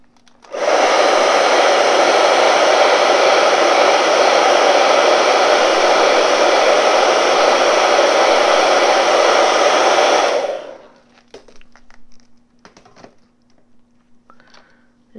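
Hair dryer blowing on an acrylic painting, a loud steady whoosh running for about ten seconds before switching off, leaving a faint hum and small handling noises.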